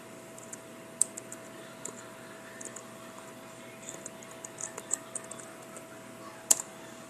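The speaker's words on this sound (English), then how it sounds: "I'm going to type in my password." Password being typed on a computer keyboard, with faint, scattered clicks and key taps spaced irregularly against a quiet room hum.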